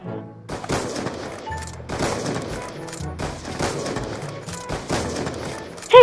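Repeated bursts of automatic gunfire in Call of Duty Black Ops 2, a 1v1 match, coming in several rapid volleys separated by short gaps, loud and close with no talk over them.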